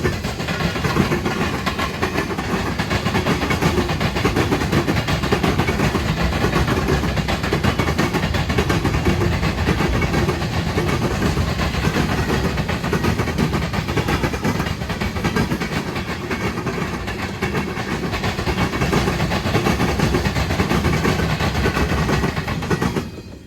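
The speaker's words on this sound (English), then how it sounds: "As advertised, here is CN L509 with its pickup from Spalding heading southbound." CN L509, a southbound freight led by IC locomotive 1018, rolls steadily past at close range, a loud continuous rumble of engine and wagons with a faint clickety-clack running through it for the whole stretch.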